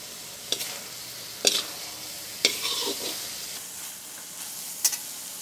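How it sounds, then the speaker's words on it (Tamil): Turkey berry and anchovy sambal with tomato simmering in a pan while a spoon scrapes and stirs, giving four sharp scraping knocks spaced about a second apart over a low, steady sizzle. "நல்லா கலந்து ஒரு ரெண்டு நிமிஷம் கொதிக்க விட"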